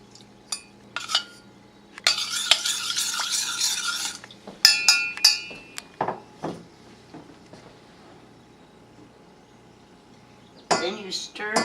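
A spoon clinks and scrapes against a bowl while pie filling is stirred smooth in a home kitchen, bursts of rapid scraping and scattered taps with quiet gaps, a voice speaking briefly near the end.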